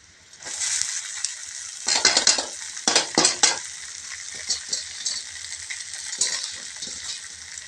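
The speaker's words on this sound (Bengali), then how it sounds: "ভালো করে ভেজে নেব চিড়েটা।" Flattened rice (chira) frying and being stirred in a pan, giving a steady sizzle broken by several sharp, close scraping stirs.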